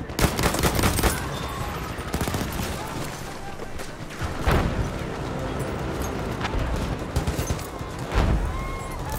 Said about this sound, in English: There's a machine gun!